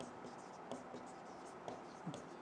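Chalk or marker writing on a board during a chemistry revision lesson: faint, intermittent scratchy strokes and taps at an even pace, over quiet room tone.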